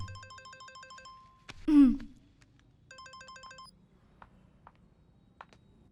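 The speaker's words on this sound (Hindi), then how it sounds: "फोन" A phone ringtone in a Hindi-dubbed action movie plays a bright, repeating electronic melody. A sudden whooshing swell cuts in, the ringtone returns briefly, and then faint ticks and background murmur follow.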